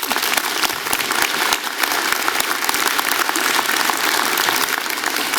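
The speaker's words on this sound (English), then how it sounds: "Please give her a round of applause." Dense, steady applause from a convocation ceremony audience, sustained clapping filling the hall with no voices over it.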